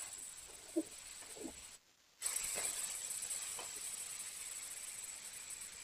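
Chicken pieces hitting hot oil in a pan for a thin Bengali chicken curry, with a steady broad sizzling hiss that surges after a brief pause and continues loudly to the end.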